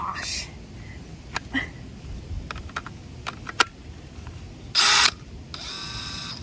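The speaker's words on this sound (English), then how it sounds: "Here I am drilling 4 holes in each of the corner as a starter for the jigsaw blade" Short bursts of a power drill whirring as it bores pilot holes through a Promaster van's metal roof, with scattered clicks and taps between them; a longer drilling burst near the end.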